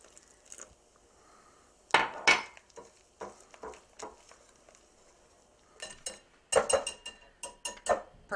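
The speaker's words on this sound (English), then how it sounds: "I whisk in 1 cup of room temperature seltzer" Tempura batter with room-temperature seltzer water gets whisked in a bowl for asparagus tempura, with close clinks and taps of the whisk against the bowl in uneven bursts and brief quiet pauses.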